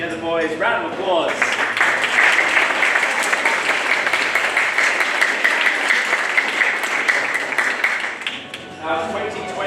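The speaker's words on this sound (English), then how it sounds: "Round of applause." Sustained audience applause fills a party hall for an awards presentation, dense clapping running steadily for most of the stretch before tapering near the end, with some voices and cheers mixed in.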